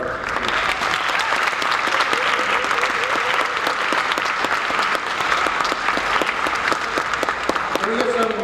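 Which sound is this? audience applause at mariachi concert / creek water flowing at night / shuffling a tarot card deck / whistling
audience applause at mariachi concert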